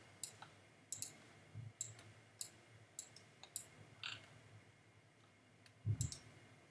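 A computer mouse clicks sharply about ten times at an irregular pace, close and quiet, with a soft thump near the end.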